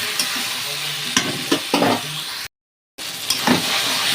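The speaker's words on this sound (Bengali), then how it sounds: "দিয়ে আমি এবার এটাকে একটু নাড়াচাড়া করে দেবো।" Turmeric and a ginger, cumin and green chili paste sizzle in a pan, stirred with several distinct scraping strokes over a close frying hiss, briefly cut to silence midway.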